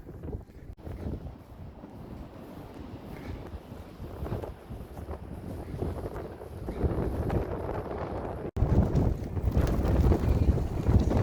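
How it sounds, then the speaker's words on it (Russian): Strong evening wind in Astana, Kazakhstan buffets the microphone in heavy, uneven gusts that grow louder toward the end, roaring over a faint outdoor background. "К вечеру задул сильный ветер"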